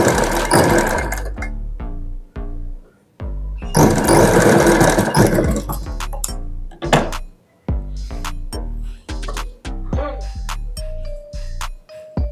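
A sewing machine stitches aari blouse fabric in rapid mechanical bursts, close and loud. It stops and restarts several times, with short pauses and small clicks between runs.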